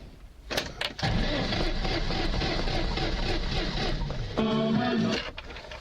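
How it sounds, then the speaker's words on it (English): A classic car engine cranks and catches after the clutch is pressed and the key turned, then settles into a steady, fairly loud idle with a brief higher whine near the end. "Put the clutch in, turn the key."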